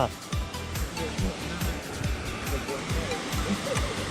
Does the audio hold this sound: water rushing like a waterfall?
yes